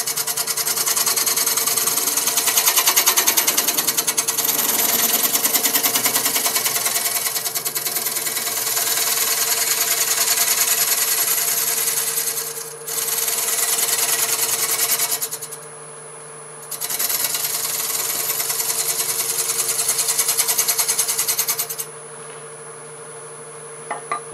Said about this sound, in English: We're going to use it as a scraper, a negative rake scraper,